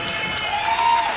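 An audience at a live show in Singapore claps and cheers, a thick continuous wash of applause with crowd noise and whoops, loud and close, carrying on throughout without words.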